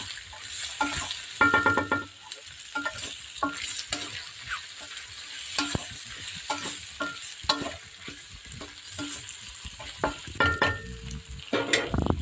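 Onion and carrot sautéing in a pan, a soft continuous sizzle broken by repeated scraping and clinking as the vegetables are stirred, close and fairly quiet.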